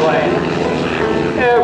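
A steady, loud engine and propeller drone from an aerobatic airplane performing rolls at an air show. It holds throughout, with a slight pitch shift near the end, and an announcer talks over it.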